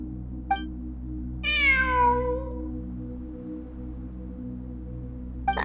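A cat meows once in a Genshin Impact game cutscene, a clear drawn-out call over a steady low hum, with two brief faint chirps before and after it and no talking.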